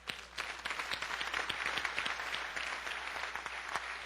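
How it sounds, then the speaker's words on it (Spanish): A church congregation claps in praise to the Lord, a moderately quiet, steady patter of many hands with some sharper individual claps standing out, a faint hum running beneath. "Un aplauso al Señor."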